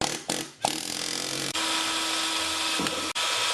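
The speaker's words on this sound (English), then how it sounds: "then drilled the hole for piece number 4" A power drill boring a hole through an aluminum Viking helmet piece, a steady close whine running for most of the span with brief gaps where the bit stops and restarts.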